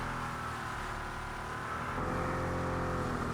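Car drifting in the racing game Test Drive Unlimited Solar Crown on a Hong Kong street circuit, with a loud steady engine drone that rises slightly in pitch midway and no voices.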